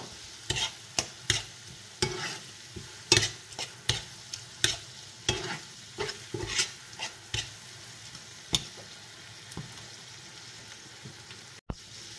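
Onions fry in a pan with a little chicken stock as part of an eggplant and anchovy dish. A spoon stirs and taps in quick, irregular strokes over a low, continuous sizzle, with no talking.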